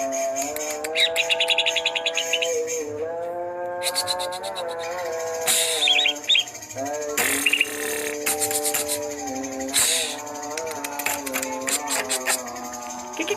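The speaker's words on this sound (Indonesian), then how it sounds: "Ngekek burungnya" A caged cucak ijo, or green leafbird, chatters in a busy, varied song of rapid trills, chirps and warbles, close and loud, alongside rubbing and rasping noises.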